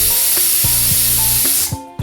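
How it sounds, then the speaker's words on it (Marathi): A pressure cooker of jeera rice on a medium gas flame lets off steam through its whistle: a loud, steady hiss with faint clicks that cuts off abruptly near the end. "कुकरची 1 शिट्टी झाल्यानंतर लगेचच गॅस बंद करू।"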